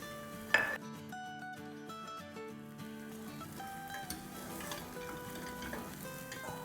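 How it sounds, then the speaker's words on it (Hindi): Makhana and peanuts stirred into poha in a pan: a metal spoon clinks and scrapes against the cookware over a soft sizzle, with a sharp clink near the start and quieter stirring after, close and low in level. "और इसको अच्छे से मिलाएंगे। साथ ही इसमें हमारे ये मखाने और मूंगफली डाल देंगे।"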